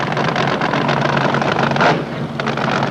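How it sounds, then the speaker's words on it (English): A Ford AA fuel dragster with a blown, injected 392 cubic inch engine drones with a loud, rough roar at a drag strip. The sound swells and then eases off. "Ford AA fuel dragster, 392 cubic inches over the left lane"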